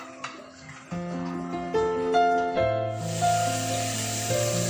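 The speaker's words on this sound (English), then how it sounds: "Now mix this white sauce into the mushrooms that you have fried." White sauce hisses and sizzles in a hot pan as it is stirred into fried mushrooms and baby corn; a loud steady hiss breaks in partway through, under tonal background music.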